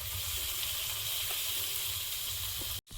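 Chopped tomatoes sizzle in hot oil with bay leaves, ginger and slit green chillies, a steady close crackling hiss that holds throughout before a brief cut near the end.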